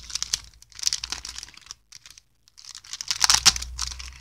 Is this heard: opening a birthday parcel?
yes